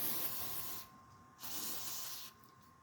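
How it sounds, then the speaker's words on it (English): Silicone lubricant sprayed in two short hissing bursts near the microphone, applied during Toyota Avalon timing belt and thermostat work, with a brief pause between them. "I'm just gonna use some silicone lubricant right here."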